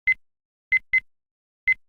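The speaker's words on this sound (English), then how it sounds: "Just beeps" Four short, clean electronic beeps from a video game menu sound in an uneven rhythm, two close together in the middle, each crisp and isolated against silence.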